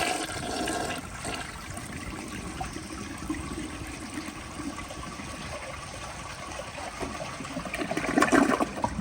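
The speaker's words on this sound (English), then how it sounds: "Here's the flush." A 1996 American Standard Cadet toilet, made in the USA, flushes with a steady rushing gurgle of water that runs the whole time, swelling and splashing louder near the end as the bowl refills.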